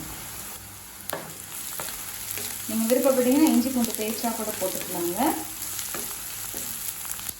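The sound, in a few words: garlic and ginger frying in pan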